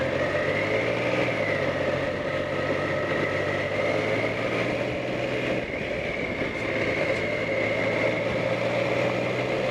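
Dustbin lorry engine idling and running nearby, a steady loud low rumble with a droning whine, continuous throughout without pause, heard from the roadside.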